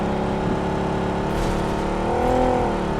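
A car driving in the BGMI battle royale game on the Erangel map, a continuous steady engine drone with slight rising revs, close and loud with no talk.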